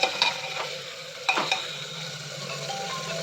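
Meat for biryani stirred in a hot pot over a chulha, a steady sizzle with a few scraping clicks of the spoon against the pot, close and moderately loud.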